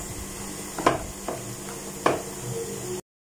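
Dumroot halwa with ground almond, cashew and chana dal paste sizzles softly in a pan while a spoon stirs it with a few faint scrapes. It ends in a moment of silence.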